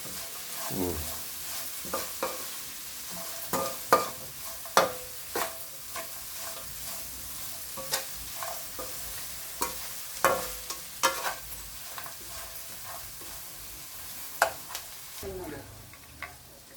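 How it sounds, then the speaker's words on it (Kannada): Cashews being stirred into vermicelli upma in a pan, with the spoon scraping and clinking in irregular bursts over a steady soft sizzle, close and fairly loud. "ಗೋಡಂಬಿ ಇವಾಗ ಹಾಕೋಬೇಕು ಲಾಸ್ಟಿಗೆ ಹಾಕೋಬೇಕು ಗೋಡಂಬಿ"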